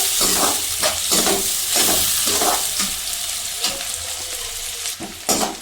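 Sliced onions and crushed red chilli fry in hot oil in a pan, a loud continuous sizzle broken by repeated spatula stirring strokes in an uneven rhythm, close up with no talking.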